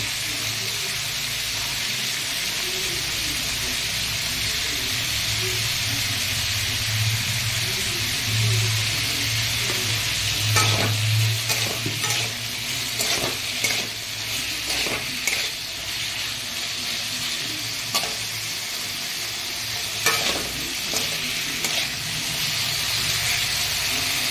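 Steady sizzling from a frying pan as domor is lightly fried with a little salt, continuous and fairly loud, with occasional scraping clicks of a utensil stirring the food.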